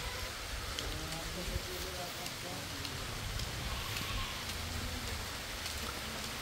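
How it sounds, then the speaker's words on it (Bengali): Heavy rain pours down outdoors, a dense, continuous hiss of drops hitting surfaces that stays steady throughout at a fairly faint level, with no clear speech over it. "জোর বৃষ্টি নেমে গেছে"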